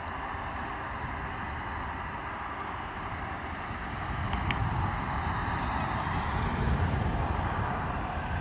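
An Airbus A319 rolling with its thrust reverser buckets still open gives a steady, broad jet-engine roar at moderate distance that swells slightly toward the end, with no talking.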